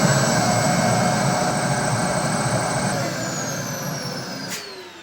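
A Dyson DC14 vacuum cleaner runs steadily at full power with its suction sealed off against a water lift gauge, a loud continuous whine and roar that holds level, then pitches slightly upward and eases off near the end.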